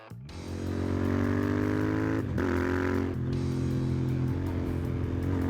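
Royal Enfield Interceptor 650, a British-style parallel-twin motorcycle, starting up and settling into a steady loud throbbing idle with a brief blip of the throttle partway through, heard close and alone.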